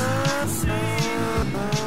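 A motorbike in GTA Vice City Stories revs and its tires squeal in short repeated bursts, loud and close, with the engine note rising and falling through the skids.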